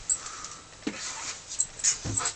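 A Black Russian Terrier whimpers and pants nearby in a short, quiet stretch of soft whines and breathy huffs, with no one speaking.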